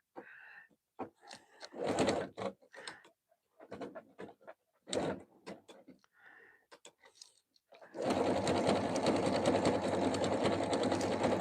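After a stretch of short, scattered sounds, a sewing machine stitching fabric strips into a jelly roll rug starts up and runs loud, close and continuous for the last few seconds.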